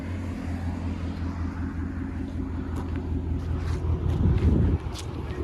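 A Ford Mustang GT with a 5.0L Coyote V8 and loud aftermarket exhaust idles with a deep, steady rumble, then swells into a short rev near the end before dropping back, heard outdoors with some wind.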